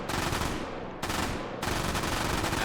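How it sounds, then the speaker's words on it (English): An MG42 machine gun firing fully automatic in the VR shooter H3VR, three long buzzing bursts at an extremely high fire rate, loud and close, separated by brief gaps. "One of the highest fire rate machine guns ever used in infantry service."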